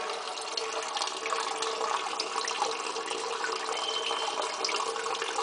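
Water flowing in from pipes into a pump system, a constant hissing rush of liquid, even and unbroken throughout, fairly quiet.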